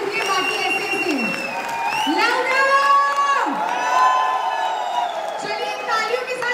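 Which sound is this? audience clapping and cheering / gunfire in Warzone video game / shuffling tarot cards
audience clapping and cheering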